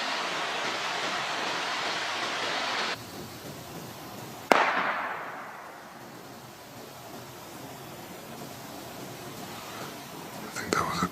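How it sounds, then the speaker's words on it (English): A single sharp gunshot fired into the woods near a campsite, a sudden loud crack that rings out and decays over a couple of seconds amid steady outdoor hiss. "I think that was a gunshot."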